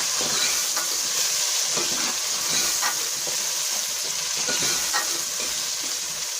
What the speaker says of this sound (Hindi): अब टमाटर को भूनेंगे।